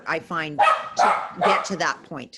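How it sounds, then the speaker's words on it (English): Dogs bark in short bursts in the background during an indoor roundtable discussion at a school, partly masked by someone speaking steadily throughout. "Sorry about the dogs."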